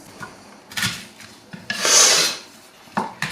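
A kitchen knife cuts leeks on a chopping board, with a few sharp separate strikes and one longer rasping slice in the middle, close and alone with no talk.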